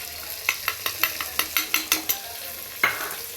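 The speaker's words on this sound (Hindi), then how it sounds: "मैं कटहल का सब्जी बना रही हूँ" A pan of jackfruit curry is stirred. A run of about a dozen crisp, evenly spaced scraping strokes rises over a faint sizzle and ends with one final louder stroke.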